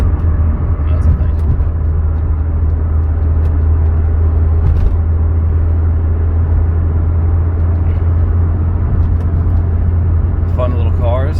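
A Mercedes W201 190E 16v engine drones steadily at close range, a constant low rumble with road noise throughout.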